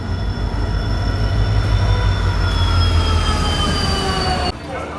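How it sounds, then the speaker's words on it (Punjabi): A train rumbles close by, arriving at a station, with wheels squealing in high, sustained tones as it rolls slowly in, ending with a sudden drop in the noise. "ਲੋ ਵੀ ਆ ਗਈ ਇਹ ਟ੍ਰੇਨ"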